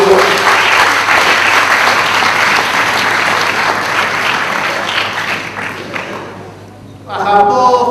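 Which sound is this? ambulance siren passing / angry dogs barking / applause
applause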